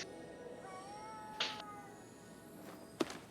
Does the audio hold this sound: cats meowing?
yes